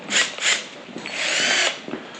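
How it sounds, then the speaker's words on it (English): A power drill fitted with a concrete bit drilling a hole: two short whirring bursts, then a longer sustained run and a final brief spin, close and fairly loud. "Now it's time to drill our first hole. We're gonna need our concrete bit."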